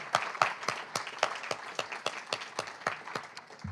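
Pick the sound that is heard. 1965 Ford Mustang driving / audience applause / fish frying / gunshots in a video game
audience applause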